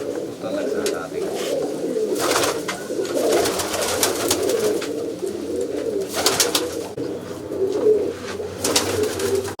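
Domestic pigeons in a fancier's loft coo in repeated soft low calls, with occasional wing flutters and a voice talking nearby throughout.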